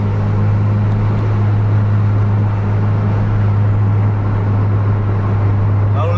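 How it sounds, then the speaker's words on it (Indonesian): Steady low drone of heavy night road traffic and engine noise heard from inside a racing Scania bus, loud and constant throughout with no talking. "Lalu lintas malam ini cukup padat."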